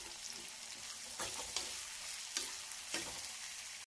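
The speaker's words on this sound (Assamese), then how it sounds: "তাত পিয়াজখিনি ভাজি লৈছো আমি" Sliced onions sizzle steadily in a hot pan while a utensil scrapes and taps through them every second or so, close up and free of voices, cutting off abruptly.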